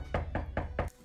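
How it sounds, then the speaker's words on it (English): Four even knocks on a door at a steady, measured pace, close and solid, each a short dull thump, with no talking. "How normal people knock."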